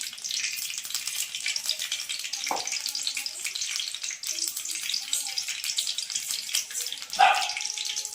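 Cumin seeds fry in hot oil in a pan with a continuous bright, crackling sizzle, interrupted by two short clatters; no talking.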